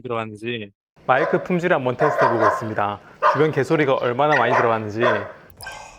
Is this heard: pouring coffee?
no